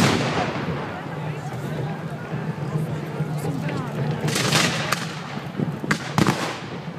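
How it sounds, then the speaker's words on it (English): Muskets fire in volleys at a reenactment of the Battle of Nantwich, with sharp distant cracks scattered over several seconds beneath an announcer talking over the field. "And now the centre of the field has come into musket action"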